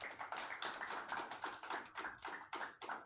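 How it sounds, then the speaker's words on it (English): Applause ripples through the crowd at a snooker match, a steady patter of many hands clapping at moderate distance, alone and without voices. "Even I have to applaud that"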